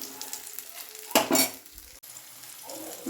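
Peanuts roasting in a little oil in a pan: a short burst of crackling sizzle and stirring clatter mid-clip, with quieter frying hiss before and after.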